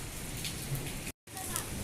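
Heavy rain pours steadily in Makkah, a dense close hiss of downpour with a brief dropout midway and no talk.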